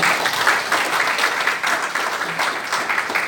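Steady audience applause fills a hall in the National Assembly building in Yeouido during a conservative group's event. Dense, even clapping runs throughout, fairly close, with no voices over it.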